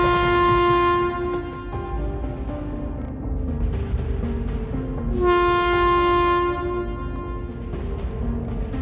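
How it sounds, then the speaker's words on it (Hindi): A cartoon train comes to a sudden stop, a loud sustained horn-like whistle blaring over rumbling rail noise, fading and then blasting again, with no speech. "तभी अचानक ट्रेन रुक जाती है।"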